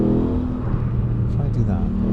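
Aprilia Tuono 660 motorcycle engine rising under throttle, a short close rev with a rider talking over it.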